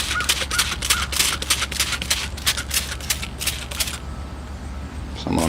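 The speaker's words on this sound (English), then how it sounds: "I'll just give it a spray." Rapid bursts of misting from a hand spray bottle over a Ficus microcarpa bonsai grown from seed, a quick run of close, crisp hissing puffs for about four seconds, then stillness.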